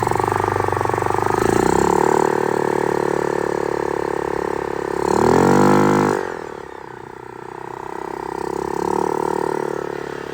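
Yamaha Grizzly 660 ATV engine running in low range, with a sustained steady drone that rises and swells midway as revs climb, then settles back to a continuous idle-like hum.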